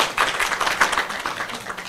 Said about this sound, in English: Please clap for Jamila.